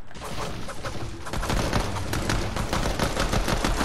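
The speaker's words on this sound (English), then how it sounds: "I'm getting shot at from somewhere." Rapid gunfire in a video game shooter: dense bursts of shots rattle almost continuously, with a brief lull early on and then louder sustained fire.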